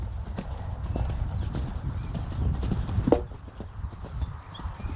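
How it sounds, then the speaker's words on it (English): Hooves of a 7-year-old horse on its first jumping line, a steady clip-clop rhythm of footfalls close by, with a brief snort or breath partway through and faint voices in the background. "the horse is actually drifting left pretty badly through the whole line"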